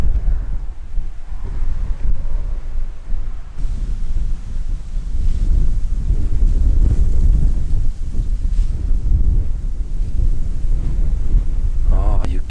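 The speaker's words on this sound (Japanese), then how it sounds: "風がすごいな。" Strong, cold winter wind buffets the microphone in heavy, continuous low roaring gusts on an open mountain plateau, loud and constant throughout.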